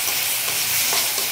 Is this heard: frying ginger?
yes